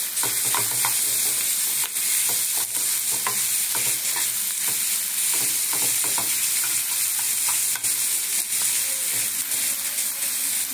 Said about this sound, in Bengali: এটা ভাজা ভাজা হয়ে এসছে।